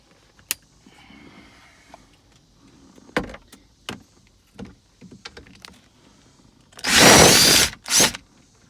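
Power drill spinning off bolts on a Ford Expedition safety control module, two short loud whirring bursts near the end after scattered clicks and clunks of handling tools and parts.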